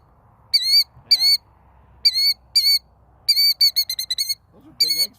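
Killdeer calling while guarding its eggs: loud, shrill whistled notes in short bursts, including a quick rapid series, with faint voices murmuring underneath.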